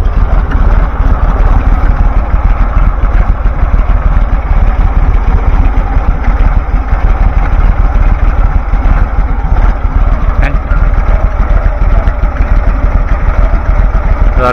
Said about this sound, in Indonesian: Suaranya halus banget. Ini mesinnya halus, Pen.